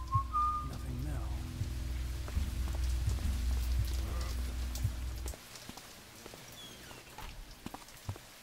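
Steady rain patters in a scene from the video game Thief, a fan mission, along with a low drone, which drops away partway through, leaving lighter rain and scattered drips.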